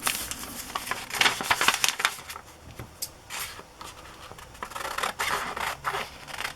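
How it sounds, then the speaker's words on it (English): Scissors trim the edge of a paper cutout for a glue book collage, giving crisp snipping and scraping strokes in uneven bursts, close and fairly loud. "So I'll trim off this edge."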